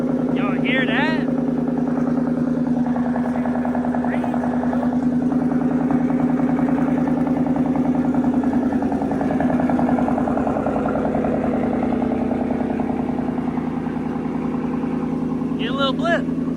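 A Shelby GT500 Mustang with a custom catless exhaust idles with a steady, deep, loud rumble, rising briefly in a couple of short blips near the start and end.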